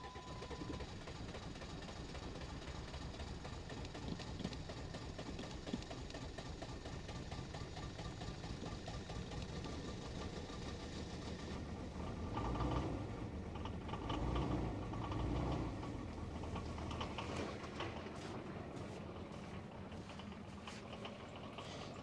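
A diesel engine turns over with difficulty before catching and running, heard as a dense continuous mechanical rumble with a rougher, rattling stretch partway through, loud and close, with no talk.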